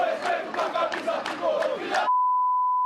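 Organized football supporters of São Paulo FC protesting after an early Libertadores elimination, a loud massed crowd chanting in rhythmic surges that cut off abruptly into a steady electronic tone.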